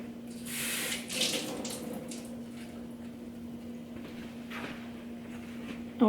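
Tap water runs steadily into a sink to soak avocado-dyed rose trim, a soft continuous hiss with a louder gush near the start.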